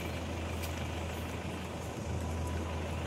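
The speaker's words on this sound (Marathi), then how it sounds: "4 गाड्या गेल्या. आता ही आमची गाडी पण जाते" Vehicles crossing a river bridge still partly under floodwater after heavy rain: a steady, low engine rumble from trucks or buses, fairly distant and continuous throughout.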